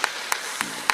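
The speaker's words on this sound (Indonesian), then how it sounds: "Tepuk tangan untuk Pak Bupati" Claps ring out for the regent at a lively Javanese religious gathering: four crisp, evenly spaced claps about a quarter second apart, close and fairly loud over a quiet room tone.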